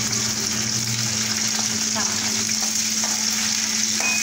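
Garlic and hot green chillies fry in a pan, giving a steady close sizzle with faint stirring noises throughout, alongside a constant low hum.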